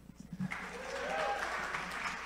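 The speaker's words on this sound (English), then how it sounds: "Let's give them a round of applause." An audience claps for a theme camp lead panel at a 2018 event, a broad, steady wash of applause that swells quickly and holds, with a few faint voices mixed in.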